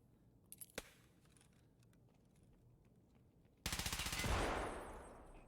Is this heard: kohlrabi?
no